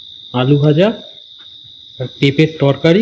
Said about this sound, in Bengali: পাশে ঝিঝি পোকার আওয়াজ পাচ্ছেন।